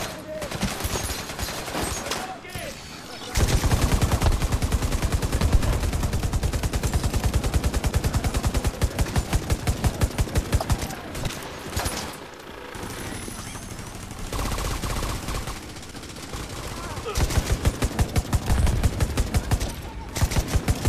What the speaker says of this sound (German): Schön mit der Maschinenpistole